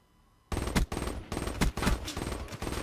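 Rapid bursts of Man O' War rifle fire in a video game, loud and close, a string of quick shots after a brief quiet start.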